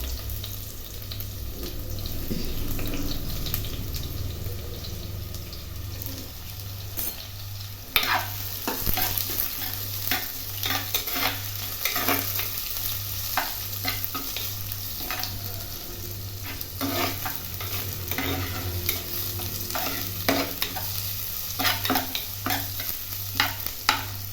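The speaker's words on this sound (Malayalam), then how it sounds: "ഇനി നമുക്ക് സവോള അരിഞ്ഞ് വെച്ചേക്കുന്ന ഇടാം" Steady frying sizzle of chopped onions in oil with frequent scraping and stirring clatter from a utensil in a pan, close by, with a low hum underneath.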